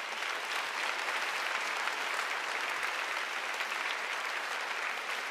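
A concert audience at the 2022 Presidential Office concert applauds the performers with dense, sustained clapping that holds steady throughout, loud and continuous, with no clear voices.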